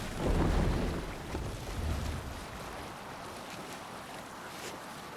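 Sailing ship crossing open sea in Assassin's Creed Valhalla, a steady broad wash of wind and waves with a heavier surge near the start, continuous and fairly close with no voices.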